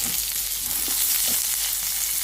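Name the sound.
frying pirandai in oil for chutney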